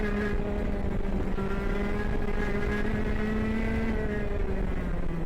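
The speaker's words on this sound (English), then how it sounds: "If you are not familiar with KA100, this is a 20 horsepower minimum, 2-stroke, single cylinder," A KA100 racing kart engine, a 100cc air-cooled two-stroke single cylinder of about 20 horsepower, drones loudly and steadily at a near-constant high buzz, with a slight pitch sag and rise.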